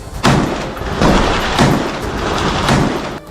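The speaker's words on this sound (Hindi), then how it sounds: "खिड़की पर बंदूक ताने खड़े इस सैनिक ने कई राउंड फायरिंग की" A soldier standing at a window fires several rounds of gunfire in Gaza, heard as four heavy, evenly spaced booming reports about half a second apart, each with a rumbling tail.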